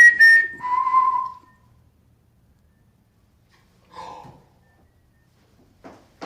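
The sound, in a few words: faint whistle in a played ghost-hunting EVP recording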